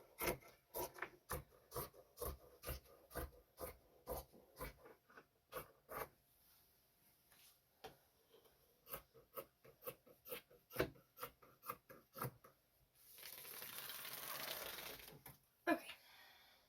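Scissors cutting through a folded sheet of fabric for a shirt, a steady series of close, crisp snips in even rhythm, then a longer rustle of handled cloth near the end.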